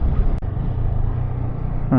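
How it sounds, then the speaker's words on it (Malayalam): A Thiruvananthapuram to Ponmudi bus passing at close range in the hills, a loud continuous engine rumble that holds steady for about two seconds. "തിരുവനന്തപുരം പൊന്മുടി ബസ്സാണ് പോകുന്നത്"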